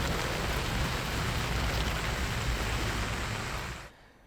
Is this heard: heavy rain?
yes